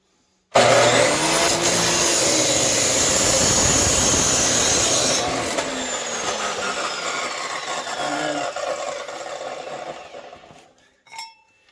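A hand saw blade cuts steadily through wood held tight in a clamp during a repair of a wrecked T-Rex, a loud continuous rasping that runs for several seconds, then eases off and tapers to a stop, with no talk.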